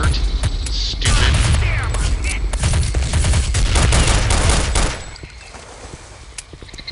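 Rapid bursts of gunfire from Counter-Strike Condition Zero Deleted Scenes in a drug lab level, dense overlapping shots and booms for about five seconds, then dropping to sparse distant pops.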